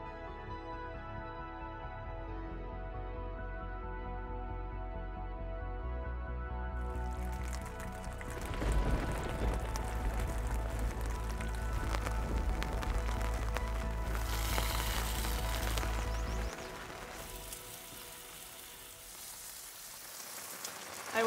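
Steady rain patters at a scenic overland campsite, a broadband hiss lasting throughout with a low rumble underneath and stronger bursts midway, while bacon fries nearby; no one speaks.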